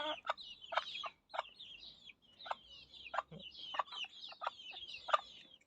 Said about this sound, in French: C'est des petits coquelets maintenant.